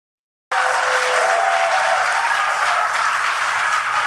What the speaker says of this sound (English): And they just clapping.